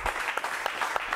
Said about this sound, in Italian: Applausi, eccolo qua.